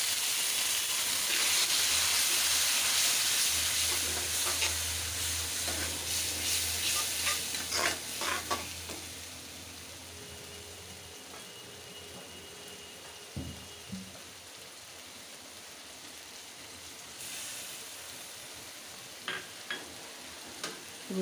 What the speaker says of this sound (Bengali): রুই মাছটা ভুনা করব পেঁয়াজ দিয়ে।